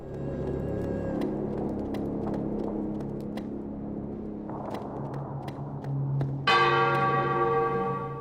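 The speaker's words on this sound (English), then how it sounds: "Ah, the toll of the bell." A church bell tolling in a village in the video game The Darkness: repeated, evenly spaced rings over a low rumble, ending in a brighter, louder bell strike that rings out.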